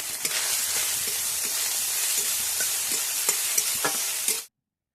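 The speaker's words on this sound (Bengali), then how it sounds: "সোয়াবিনগুলো ভালো করে ভেজে নেব।" Soybean chunks frying in mustard oil in a wok, a loud, even hiss with scattered small pops and stirring scrapes, cutting off abruptly just before the end.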